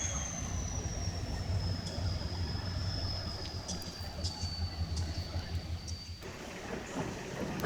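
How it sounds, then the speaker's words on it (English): Conrail and BN locomotives move a train into Watkins Yard, giving a steady rumbling roll with a thin high wheel squeal drifting over it, moderately distant and continuous throughout. "As the locomotives move the train into Watkins Yard"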